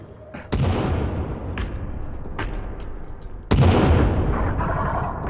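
A bomb in The Forest survival game goes off in two heavy blasts a few seconds apart, each a sudden loud boom trailing into a rumbling wash, with smaller sharp pops scattered between them.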